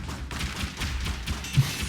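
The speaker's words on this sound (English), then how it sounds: "It's just a barrage of shots." A rapid barrage of shots in the game Dead Cells, a dense, fast run of small impacts and pops at moderate volume, with a couple of heavier thuds near the end.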